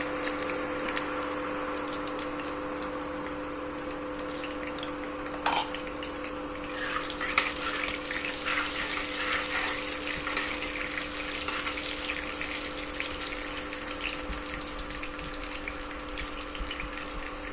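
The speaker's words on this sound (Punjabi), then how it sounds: "ਜੀਰੇ ਨੂੰ 5 ਮਿੰਟ ਲਈ ਚੰਗੀ ਤਰ੍ਹਾਂ ਭੁੰਨਾਂਗੇ" Cumin seeds roasting in hot oil left from frying okra for a spicy yogurt okra curry: a steady, fairly loud sizzling hiss with faint crackles throughout, no voices.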